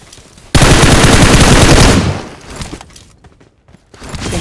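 Sustained automatic gunfire in the mobile shooter game BGMI: a loud, dense burst of rapid shots lasting about a second and a half, then fading into faint scattered clicks and quieter noise, with no talk.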